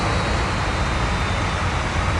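Steady, loud broadband roar of an airliner's engines idling on the ground at Dubai in the flight simulator game Infinite Flight, continuous with no voices.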